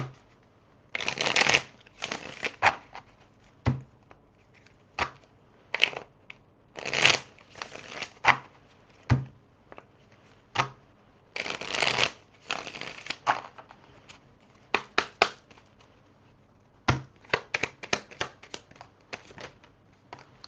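Tarot cards being shuffled by hand, close crisp riffling and snapping bursts scattered irregularly with short quiet gaps between them.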